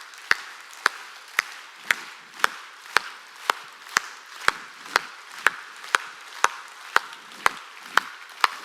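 A church congregation at a summer mountain revival service claps in steady unison, with sharp, evenly spaced claps about twice a second and no voices between them.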